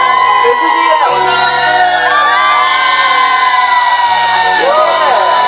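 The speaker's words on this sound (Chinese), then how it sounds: "给自己一个掌声" Loud concert crowd at an outdoor Taiwanese-song show in Linkou, New Taipei, cheering, whooping and shouting continuously, with a sustained musical tone and other music running underneath the whole time.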